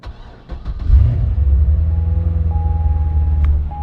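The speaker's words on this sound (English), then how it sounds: "we give this thing a little cold start" A Corvette's 7-liter V8 catches on a cold start after brief cranking, swelling into a deep, loud rumbling idle that holds steady and close.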